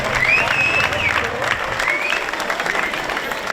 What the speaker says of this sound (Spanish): Venga, un aplauso para Aitor. Venga, más fuerte